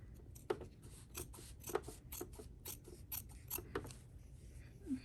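Scissors trim the fabric edge of a stitched wrap skirt, making a quick series of crisp, close snips in an uneven rhythm with faint mechanical clicks between cuts. No one speaks.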